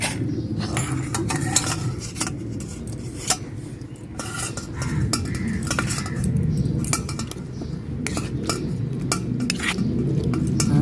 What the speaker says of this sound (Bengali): দেখেন আমি এইভাবে স্টেনারে ছাইকা নিতেছি